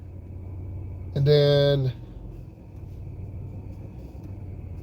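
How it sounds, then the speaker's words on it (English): A car drives along a road at night, a steady low rumble of engine and tires filling the cabin throughout, with a brief spoken phrase partway through. "Now I'm gonna go ahead and start driving."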